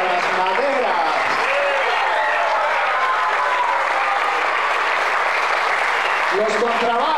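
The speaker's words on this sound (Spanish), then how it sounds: "Un aplauso para las maderas" A concert audience applauds the woodwind section of a youth orchestra in Santa Cruz, a dense, steady wash of clapping that holds for several seconds. A voice comes in briefly near the end.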